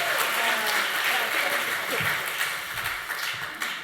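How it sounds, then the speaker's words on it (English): A gala audience at Conway Hall bursts into loud, sustained applause with some cheering for Florence Schechter, the clapping dense at first and thinning toward the end. "Will you please give a big whooping cheer to the fantastic Florence Schechter?"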